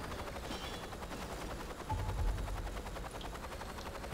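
Helicopter rotor thrum and rapid machine-gun fire in the video game Saints Row 2, a steady dense rattle of shots over a continuous low drone, with a heavier thump midway.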